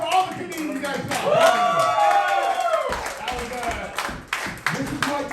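Applause and scattered cheering from a comedy roast battle audience at Roastlemania, clapping rising and thinning over a few seconds beneath a loud amplified voice talking.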